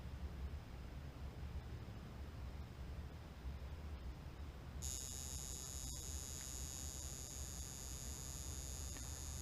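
An electric tattoo machine at low voltage kicks on partway through, a faint, thin, steady high buzz rising out of a low background hum and continuing evenly to the end.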